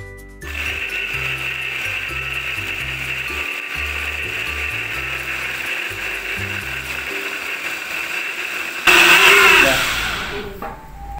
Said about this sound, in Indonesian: Daging ikannya tadi kita blend dulu ya.